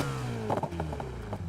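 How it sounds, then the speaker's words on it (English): Car exhaust note from a tuned car in the racing game Need for Speed Heat, a steady engine drone with a few quick revving blips, loud and close, no talk. "All right, exhaust sound."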